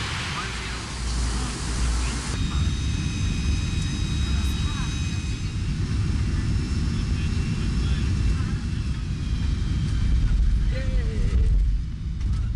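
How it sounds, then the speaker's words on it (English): An airplane touches down on Socotra: a loud, steady cabin roar of engine and rushing air with a rumble of the runway, and a voice speaking over it. "Touchdown on Socotra."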